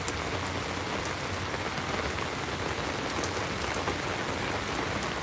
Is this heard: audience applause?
no